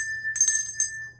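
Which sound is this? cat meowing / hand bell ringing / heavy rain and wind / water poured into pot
hand bell ringing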